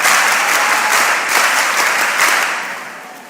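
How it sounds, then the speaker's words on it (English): Girls at a mentorship session give themselves a loud, close round of applause, dense clapping from a crowd that holds steady and then fades out over the last second. "give yourself a huge round of applause"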